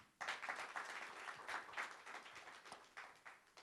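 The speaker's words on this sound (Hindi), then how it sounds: "उनके लिए ताली बजाइए" Audience applause at a film song teaser launch event, a dense burst of clapping starting abruptly and continuing in slightly pulsing waves for several seconds.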